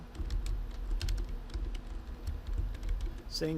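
Quiet, irregular clicking of keys on a computer keyboard, typed at a modest pace over a low background hum.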